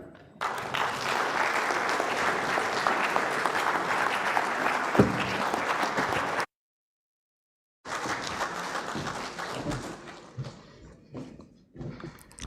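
Audience applause after a memorial lecture, a loud, steady crowd of clapping hands that cuts out abruptly for a moment, then resumes and tapers off into scattered claps.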